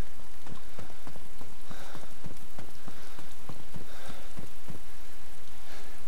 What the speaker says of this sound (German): Jetzt regnet wieder bei mir.